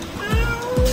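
A young child imitates a cat's meow with two drawn-out, falling meows about half a second apart, close and fairly loud over a faint background hum.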